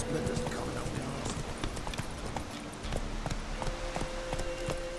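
Roach, the horse in The Witcher 3, gallops with quick, steady hoofbeats in a continuous clip-clop rhythm over a soft outdoor ambience, moderately close.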